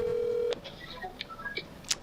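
Telephone dialing tones play over a speakerphone, a steady tone for half a second followed by a quick run of short, separate beeps at uneven spacing.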